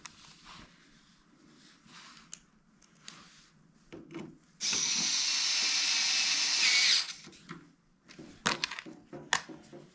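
An electric screwdriver backs screws out of the bottom of an Akai S2800 sampler, a loud steady whir lasting about two seconds, framed by quieter clicks, handling knocks and small rattles.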